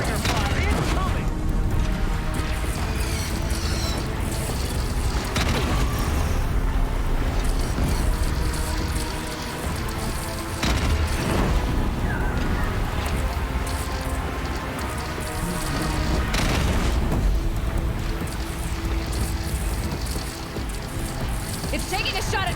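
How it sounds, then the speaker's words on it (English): Deathbringer machine in Horizon Zero Dawn firing acid missiles from the sky, a dense, continuous barrage of hissing impacts and booms with talk over it. "It's taking a shot at me. Acid missile. From the sky."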